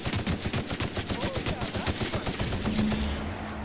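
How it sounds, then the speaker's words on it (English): Rapid automatic gunfire from The Outer Worlds video game, a fast, steady rattle of shots that continues throughout at close range, with a low tone emerging near the end. "Gunfire, I heard."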